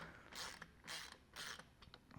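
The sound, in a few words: screwdriver tightening steering wheel screws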